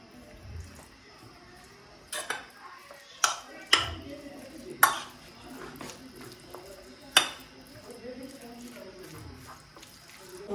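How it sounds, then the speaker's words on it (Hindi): A chicken patty filling is stirred in a bowl, with a spoon knocking sharply against the sides a handful of times at irregular intervals over a soft background of mixing. "और इसको अच्छी तरह से मिक्स कर लेते हैं"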